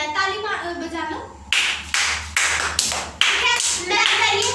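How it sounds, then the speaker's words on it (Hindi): Children in a school classroom clap their hands in several loud, sharp bursts of applause, each burst stopping abruptly, with an adult voice speaking before and between them. "ताली बजा लो"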